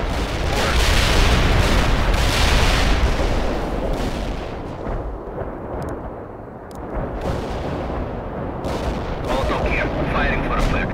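Artillery firing in the World in Conflict game: a loud, sustained barrage of heavy booms and rumbling blasts that dips briefly in the middle, then builds back into dense, continuous fire.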